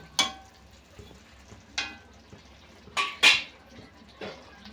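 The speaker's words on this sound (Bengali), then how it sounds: "এবার কিছুক্ষণের জন্য ঢাকা দিয়ে রেখে দেব" A lid set over a pot of Bengali cabbage curry with chickpeas: several separate metallic clinks and clatters, close and fairly sharp, spaced over a few seconds against a faint low background, no talking.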